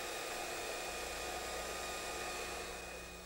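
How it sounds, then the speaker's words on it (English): A belt sander turned on edge runs steadily as it lightly smooths wood to a line for final fitting, giving a continuous loud whirring hiss with a constant motor hum beneath, trailing off slightly at the end. "I've turned my belt sander on edge to lightly smooth to the lines for final fitting"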